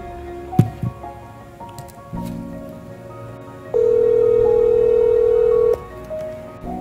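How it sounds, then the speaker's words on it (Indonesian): Phone call setup: a few clicks and short dial beeps, then a loud steady ringback tone holds for about two seconds before stopping, heard alone. "saya telepon dia dulu ya."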